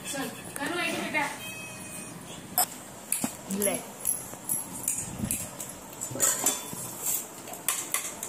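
A metal spoon clatters against steel dishes in a home kitchen, with scattered clinks and scrapes at close range while people talk over it.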